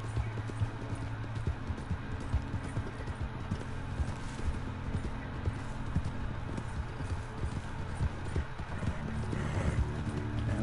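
Horse hooves clip-clop steadily in Red Dead Redemption 2 Online, a continuous rhythmic trot at moderate volume, with a faint voice briefly present.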